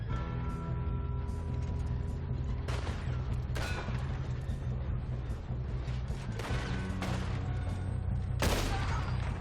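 Gunfire in Red Dead Redemption 2 during a train robbery: several sharp shots ring out at irregular intervals over a steady bed of rumbling train and game noise, with a brief pause between bursts.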